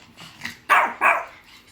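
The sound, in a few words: puppy barking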